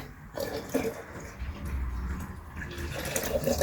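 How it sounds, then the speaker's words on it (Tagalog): Water pours into an electric kettle that is being checked because it won't heat, a steady splashing fill sound at close range with no talk over it. "nilagyan ko ulit ng tubig"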